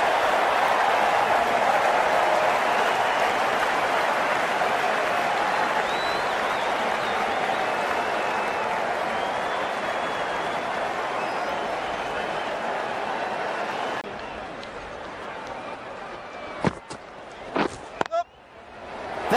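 A crowd applauds in a Cricket 19 T20 match between Pakistan and Australia, a broad steady roar of clapping and cheering that fades out toward the end, ending in a few sharp thuds.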